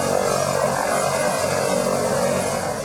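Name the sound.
helicopter arriving for landing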